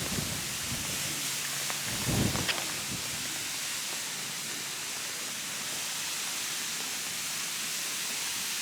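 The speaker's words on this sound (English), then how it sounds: "We got a little bit stuck in the rain" Steady rain hisses as a broad, even wash over a mountain climb in Orocovis, Puerto Rico, with a brief low rumble early on and no talk.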